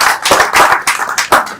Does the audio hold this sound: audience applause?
yes